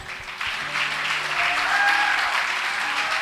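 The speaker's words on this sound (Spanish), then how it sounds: "Den un aplauso a Dios." A church congregation breaks into sustained applause at a Spanish-language worship service, a steady wash of many hands clapping that swells after the first half second and holds evenly to the end, with a faint voice faintly underneath.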